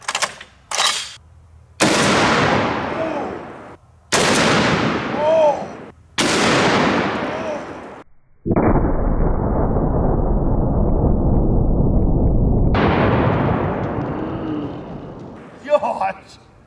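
Silver-tip .50 BMG armor-piercing incendiary rifle rounds fired outdoors at a 150 lb slam ball: a series of loud, sharp blasts, each with a long ringing decay, followed by a sustained roaring rumble.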